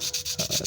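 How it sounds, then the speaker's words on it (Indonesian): Sandpaper rubbing on a motorcycle gear ring from a six-speed gearbox, short rhythmic scraping strokes repeated several times in quick succession, close and moderately loud, with no voices. "Nah ini kita amplasin sedikit."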